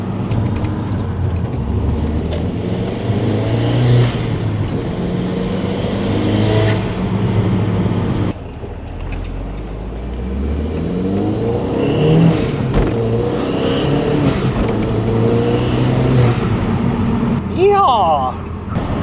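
An Audi TT drives along with a steady engine drone and road rumble that swells as it accelerates. Voices talk over the noise inside the cabin throughout.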